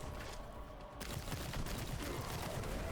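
Gunfire in Warhammer 40,000: Boltgun, rapid bursts of shots forming a dense, continuous fusillade that swells after a short lull.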